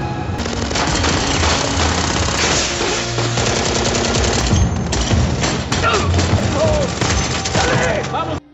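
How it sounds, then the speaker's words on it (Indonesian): Dense, sustained automatic gunfire from an action film fills the whole stretch with rapid bursts and shots, loud and continuous under a busy soundtrack. "Akibatnya, Brax yang terkena tembakan"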